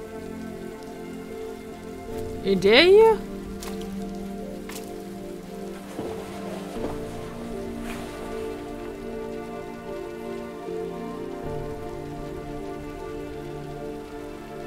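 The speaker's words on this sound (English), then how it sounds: "Let's wait out the rain in the booth." Rain patters steadily on a surface in the adventure game Road 96, a constant soft hiss that runs throughout, with a brief spoken line and a short tonal swoop near the start.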